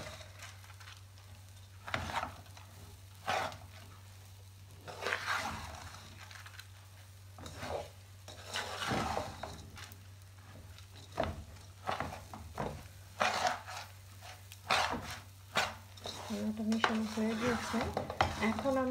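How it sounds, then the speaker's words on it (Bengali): Rice frying with spice masala in a pot, with a spoon clinking and scraping against the pot in irregular bursts over a low, steady hum and faint sizzling. "চালটা একটু ভেজে নিব, এটাই মশলাটার সাথে চালটা মিশাবো।"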